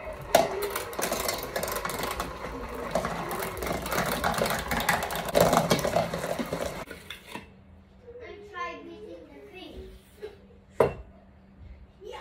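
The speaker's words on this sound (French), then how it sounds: "On va mélanger le beurre jusqu'à qu'il soit bien crémeux." An electric mixer creams butter for a coconut cake batter, whirring steadily and loudly for about seven seconds before cutting off, after which quieter kitchen sounds and a voice follow.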